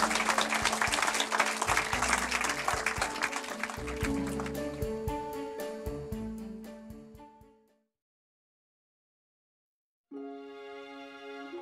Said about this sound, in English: Another round of applause for the women of the Hub Community Kitchen